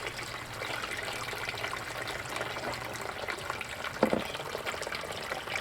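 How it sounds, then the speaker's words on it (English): Water runs steadily through a home-made gold sluice used for recovering precious metals, a soft continuous trickle and splash with a brief louder gush near the end. "Now I'm not sure I have enough water flow even with the extra holes."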